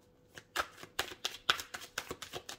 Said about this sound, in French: Je tire une autre carte